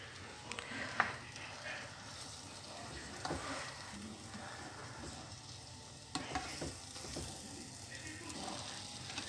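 Scampi browning on both sides in a hot pan for a creamy scampi dish, giving a steady close sizzle broken by occasional spatula clicks and scrapes.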